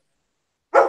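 A single sharp dog bark goes off suddenly near the end of a short silence, close and fairly loud, from one of several dogs in a home.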